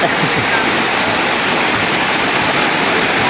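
Floodwater pouring and rushing across a flooded court during a heavy storm, a dense, steady roar of flowing water close by that continues without a break.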